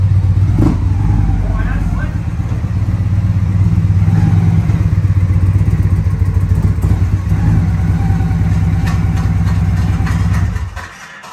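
A Victory Cross Country motorcycle engine rumbles low and steady up close while the bike rides onto a lift, holding a throaty idle with slight swells before cutting off at the end.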